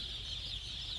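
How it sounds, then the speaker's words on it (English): A dense, continuous high chirping from thousands of chickens inside a chicken house, a steady shimmering chorus with a low hum beneath, moderately faint. "Do you hear all those thousands of chickens? Feel all that chirping?"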